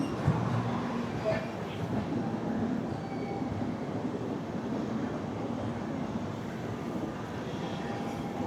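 Rumbling, steady noise from the Sampark Kranti Express passing on the next platform at Shoranur Junction, heard from aboard another train, a continuous mid-loud roar with no clear talk.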